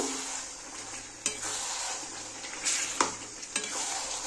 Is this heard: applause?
no